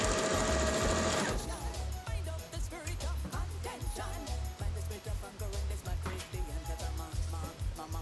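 A sewing machine stitches along the seam of a fabric mask with a fast, rhythmic mechanical chatter, loud and close, continuing steadily throughout with slight changes in speed.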